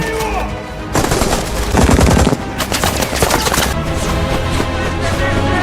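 Rapid bursts of film gunfire during a prison escape crackle over a dense, busy background, with a heavier volley near the middle before settling into steady chaotic noise.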